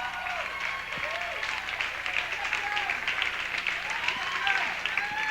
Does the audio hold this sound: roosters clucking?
no